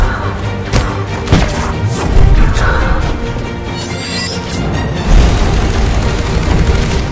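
Gunfire in a Mass Effect 3 trailer, heavy booming shots and crashes in a loud cinematic mix, with voices nearby.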